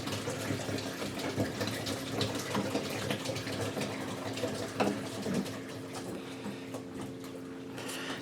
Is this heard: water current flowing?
yes